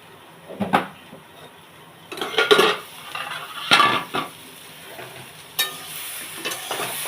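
Parboiled potatoes and gourd stalks fry in a pan with a steady sizzle, broken by several loud scraping stirs and clanks of a spatula against the metal, close up and without speech.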